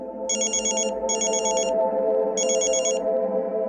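A telephone rings in three electronic bursts, two close together and one after a pause, over a steady background hum.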